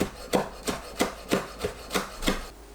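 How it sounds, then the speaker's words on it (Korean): A knife slices seeded red chilli into thin strips on a cutting board, with about eight soft, evenly spaced strokes landing in a steady rhythm, close but quiet. "채 썰어주세요."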